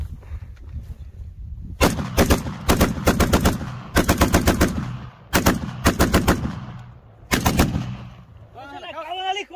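Rapid bursts of sharp, crackling explosive pops from firework rockets fired on a hillside, in quick volleys with pauses between clusters, loud and close over a low rumbling background.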